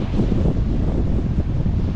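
Strong wind buffets the microphone at Geumneung Beach on Jeju, a steady low roar with heavy surf churning underneath, continuous and loud for the whole stretch with no voices.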